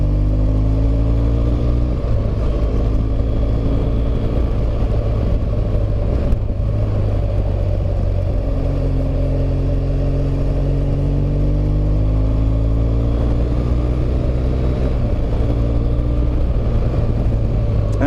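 A motorcycle cruising along a country road in France, its engine a loud, steady close drone with slight shifts in pitch as the rider holds speed, with no talk throughout.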